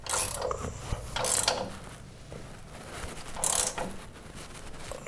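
A ratchet wrench tightens a 5/8 bolt and 11/16 nut on a skid plate of a Kubota BX23S tractor, giving bursts of quick clicking ratchet strokes separated by quieter pauses, close up with no talk.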